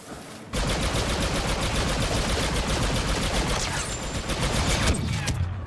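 Heavy weapon fire in the video game Star Wars Battlefront 2 pours out as a loud, continuous rapid-fire stream lasting about five seconds, close and dominant, then cuts off abruptly.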